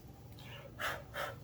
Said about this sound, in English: My dog is snoring in case you hear her.